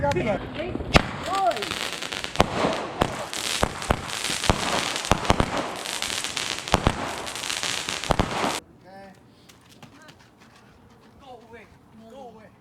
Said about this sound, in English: They're doing fireworks.